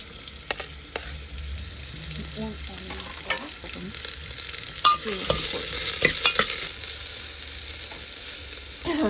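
Chopped onion frying in a pan gives a steady close sizzle, with a spoon clicking and scraping as it is stirred. No one talks.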